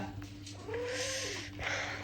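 A cat gives a single drawn-out, rising-then-falling meow close by in a home, over a steady low hum and faint background speech.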